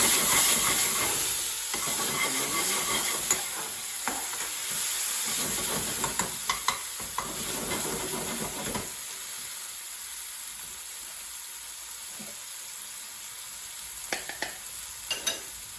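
Onions frying with a splash of base gravy for a restaurant-style garlic chicken bhuna, a loud hissing sizzle with scattered utensil clicks and stirring that settles into a quieter simmer partway through, no speech.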